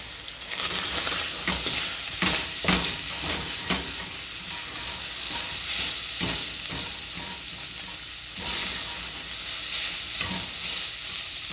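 Onion fries in a pan for tacos, a continuous loud sizzle with scattered stirring scrapes and taps throughout, close up and with no speech.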